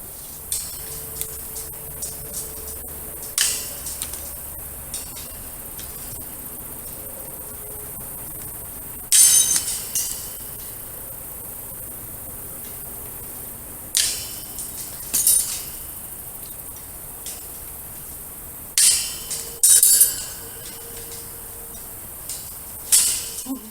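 Sharp wire ends being trimmed off a fence panel: quiet, intermittent metallic snips and clinks spaced a few seconds apart over a faint background hiss.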